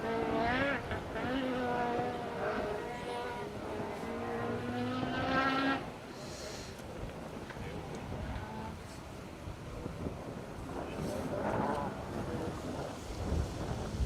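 A loud rally car engine roars and revs harmonically at the RAC Rally, then gives way to a rushing, churning noise of water spray through a water splash and a rougher engine note.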